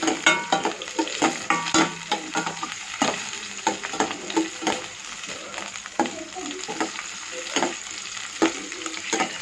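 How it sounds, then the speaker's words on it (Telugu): Curry sizzling and frying in a pan on the stove as water goes in, a steady crackling hiss with scattered stirring clinks and scrapes throughout, close and fairly loud. "ఇప్పుడు మనం కొంచెం వాటర్ వేసుకోవాలండి"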